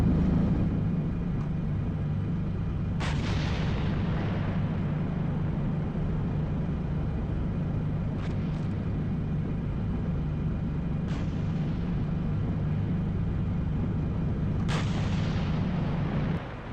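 An artillery gun in a video game scenario fires a few sharp, loud reports several seconds apart, each with a decaying tail, over a constant low engine-like rumble.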